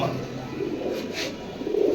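Army pigeons coo in a low, steady murmur close by, soft throaty calls repeating under a faint airy background with no talk.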